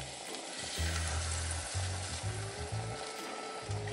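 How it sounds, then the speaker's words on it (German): Ravioli sizzling and frying in a pan ahead of a cream sauce, a steady crackling hiss with a few clanks of stirring, with no talk. "Man sieht, hier brutzelt es schon ganz schön."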